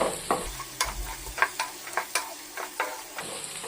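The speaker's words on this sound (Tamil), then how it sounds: "இப்போ இதை நல்லா கலந்து விட்டுருவோம்" A spoon scrapes and stirs potatoes in a sizzling pan, quick repeated strokes over a steady frying hiss, close up.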